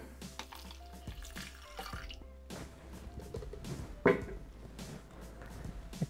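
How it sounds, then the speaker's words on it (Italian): Water poured into a Thermomix (Bimby) TM6 bowl during risotto cooking, heard as a continuous trickling, dripping flow close by with a brief louder splash partway through. "Adesso versiamo l'acqua."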